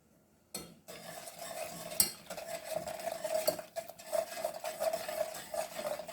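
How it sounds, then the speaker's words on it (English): Sugar mixture with honey stirred in a pot on low heat, a steady scraping and swishing of the spoon against the pot bottom with a few sharp knocks, continuous and close, no voices. "So you want to constantly stir this, aiming for the sugar to melt out"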